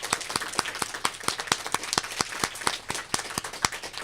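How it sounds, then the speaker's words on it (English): Audience applause at a student of the semester award ceremony: steady, crisp, evenly spaced claps ring out under a wash of scattered clapping, moderately distant and fairly quiet, with no voices. "Can we have one more clap for all of your parents that are watching?"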